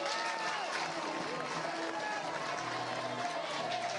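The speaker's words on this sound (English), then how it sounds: "looking down at the dugout for Stanford, there's a lot of applause" Crowd applause at a Stanford vs LSU college softball game after a deep catch at the wall, a steady roar of clapping and cheering mixed with crowd noise and talk throughout.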